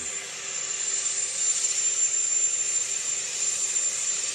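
Presidential jet departing from the summit in Ankara, Turkey, its engines roaring in a steady, loud, sustained wash with a high whine on top, continuous throughout with no talk.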